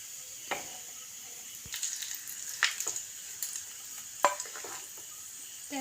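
Fish frying in a pan of oil alongside banana flower, a steady soft sizzle with scattered scrapes and clinks of a spatula stirring, fairly quiet and close, with no voices.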